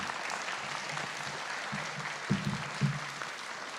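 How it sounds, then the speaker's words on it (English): A short burst of clapping from a group of people at a school board meeting, steady and moderately loud, with a couple of sharper thumps near the end. "Quick applause for our board."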